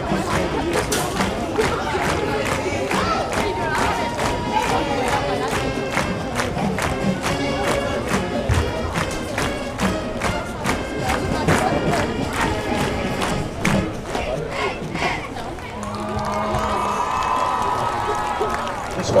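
A high school football crowd for Chapel Hill against Gilmer roars and cheers at an outdoor stadium, a loud, continuous mass of voices with rhythmic band or stomping beats throughout.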